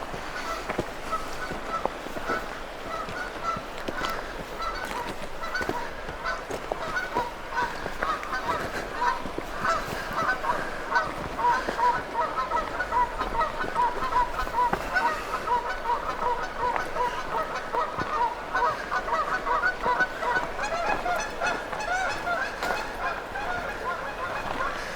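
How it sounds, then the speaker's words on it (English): Geese honk continuously around their nesting area on a rocky slope near Bagby, California, a dense overlapping chorus of repeated nasal calls at moderate distance, steady and agitated throughout. "We can hear them honking."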